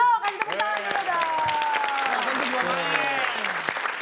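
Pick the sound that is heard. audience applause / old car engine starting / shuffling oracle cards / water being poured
audience applause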